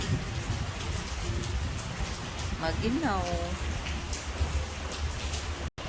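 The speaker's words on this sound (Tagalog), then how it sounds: "umuulan" Steady rain at a beach resort hisses in a dense, even wash, while a voice briefly speaks a word in the middle.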